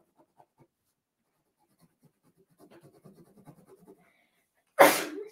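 Soft scratching of a pen or pencil drawing on paper runs quietly for several seconds, then one sudden, loud sneeze erupts close by and fades quickly.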